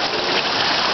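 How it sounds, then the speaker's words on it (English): Steady rain on a shower, a dense hiss of falling water that runs unbroken for the whole second, close and fairly loud with no voices over it. "There's one thing about the rain in the shower."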